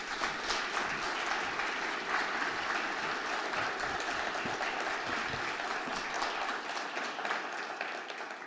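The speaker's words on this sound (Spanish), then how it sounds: "a quien recibimos con un aplauso" An audience at a ceremony marking 40 years of Argentine democracy applauds to welcome former Spanish prime minister José Luis Rodríguez Zapatero, with sustained, even clapping from a large crowd that tapers off near the end.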